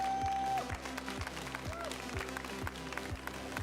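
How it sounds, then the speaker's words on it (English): Crowd applause for competitors at a Pokémon regional championship in Sacramento, a steady wash of clapping from the audience with music beats and a low voice running underneath. "can I please get a quick round of applause for all of our competitors here today?"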